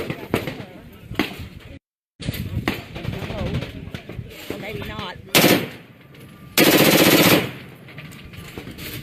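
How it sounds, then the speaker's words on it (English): Big-bore guns firing at an outdoor shooting range during an industry day, loud close shots and rapid bursts that alternate with people talking nearby. "Wait for Sherry to shoot."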